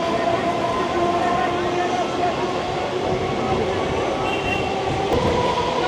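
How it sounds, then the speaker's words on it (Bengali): A nearly empty train leaving Sonarpur rumbles steadily along the tracks, loud and continuous, with metallic wheel hum and faint rattling from inside the carriage. "আমাদের সোনারপুর থেকে ট্রেন বেরিয়ে গেল"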